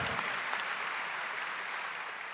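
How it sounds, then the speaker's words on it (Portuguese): A congregation at an outdoor Marian camp Mass applauds in a steady, fairly distant wash of clapping that fades slightly toward the end. "Dá uma salva de palmas para Nossa Senhora"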